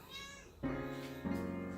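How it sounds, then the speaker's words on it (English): A cat cries inside a garage, two drawn-out plaintive meows in close succession, fairly near and clear, with no other sound competing. "there's a crying cat in my garage"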